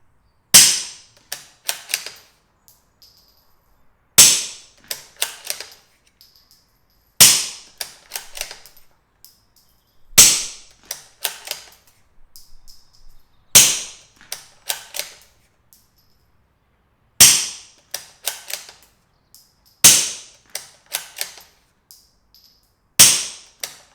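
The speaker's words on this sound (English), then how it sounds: "So I'm going to just crack off 10 rounds and you can see how it goes." A Tikka T1x rimfire rifle fires a series of sharp, loud single shots spaced a few seconds apart, each followed by quick mechanical clicks of the bolt action being cycled, with no talking.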